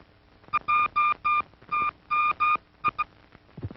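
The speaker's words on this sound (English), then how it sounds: "Cross-ringing" A series of sharp electronic tones in short bursts, some paired, from cross-ringing on a telephone line, ringing out clearly over faint line hiss, ending in low rumbling noise.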